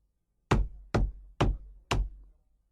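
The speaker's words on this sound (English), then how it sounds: "He walked straight to the mirror and began knocking on the wall." Four firm knocks on a wall land at a steady, unhurried pace, each a loud close thud with a short resonant decay, with nothing else heard around them.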